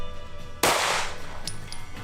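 A single loud pistol shot at a shooting range, a sharp sudden crack partway through that leaves a decaying noisy ring, with faint metallic clinks after it.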